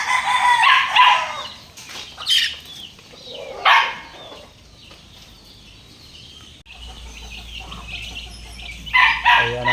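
Chicks and chickens close by, with bursts of loud peeping and clucking, some crowing-like calls, and quieter gaps between.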